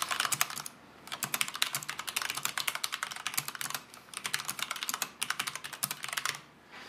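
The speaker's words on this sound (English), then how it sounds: "I'll just do a little quick type here" Quick typing on a mechanical computer keyboard, a dense run of close, crisp key clicks in several short bursts with brief pauses, quiet overall and with no voices.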